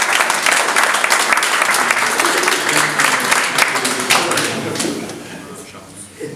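Loud, dense applause from a crowd at an art exhibition opening in Florange, sustained clapping that holds strong for several seconds before tapering off near the end.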